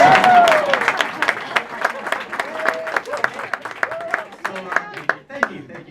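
Audience applause at an Andy Weir author event at Book Passage bookstore, a dense patter of clapping under overlapping voices and laughter, loud at first and thinning out over a few seconds.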